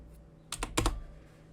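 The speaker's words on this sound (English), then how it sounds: "I can't talk while I'm typing." Typing on a computer keyboard gives a short burst of soft, close keystroke clicks, two quick clusters in near silence.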